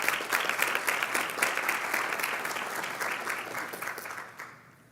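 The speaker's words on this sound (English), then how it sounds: "Let's give these folks a round of applause." An audience at a practice transformation general session breaks into sustained applause, dense and steady, then tapers off near the end.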